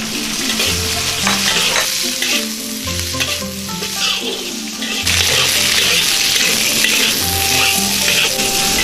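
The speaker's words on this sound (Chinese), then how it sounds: "花椒、海椒炒香过后放入鸡尖" Chicken wing tips stir-fried in a hot wok with rapeseed oil, Sichuan peppercorns and dried chilies give a loud, steady sizzle with scraping stirs throughout, no voices.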